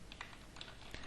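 Typing on a computer keyboard: about a second of faint, quick key clicks with a soft, steady background hiss.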